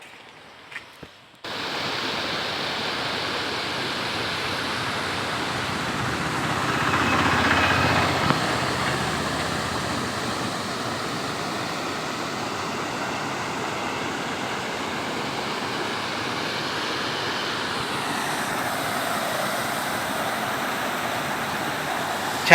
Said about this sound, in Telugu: వాటర్ అయితే ఫ్లో బాగా పోతున్నాయి.